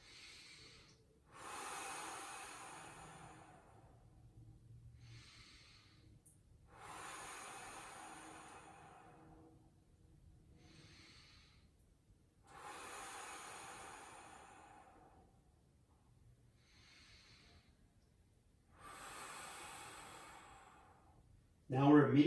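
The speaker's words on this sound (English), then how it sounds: "you're going to spend 5 breaths" Slow, deliberate breaths from a person holding a lower-body stretch, about five long airy inhales and exhales spread evenly several seconds apart, close and soft, ending in a brief louder noise.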